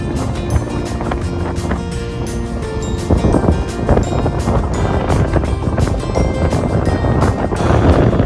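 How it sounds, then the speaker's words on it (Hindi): Sea waves roll onto Puri beach while a cool wind gusts, forming a steady, loud wash of surf and wind noise with no voices. "लहरों की आवाज, ठंडी हवा और बालू पर चलना सब कुछ जादुई लगता है।"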